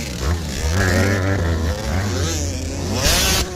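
A motorcycle powering through a muddy track in a rough riding event, its engine droning and revving loudly up close with scraping noise near the end.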